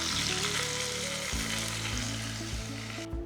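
A mustard seed tempering hits a pan of mutton mappas curry with a loud, close sizzle that holds steadily, with brief crackles and stirring knocks.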